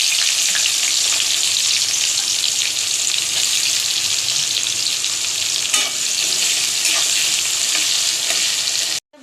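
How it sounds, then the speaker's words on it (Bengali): Onion fries in oil with sugar, bay leaf and whole garam masala for chicken biryani, giving a loud, continuous close sizzle with stirring scrapes that cuts off abruptly at the end. "ওর মধ্যেই পেঁয়াজটা দিয়ে দেবো।"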